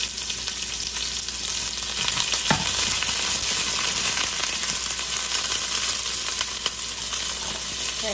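Onion sautés with garlic in olive oil for soup, a loud steady sizzle close up with occasional clinks and scrapes of stirring and a brief knock partway through.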